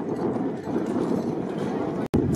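Bullocks' hooves gallop in a steady drumming patter during a bullock cart race at Ambegaon, mixed with dense crowd noise and talk, with a brief cut near the end.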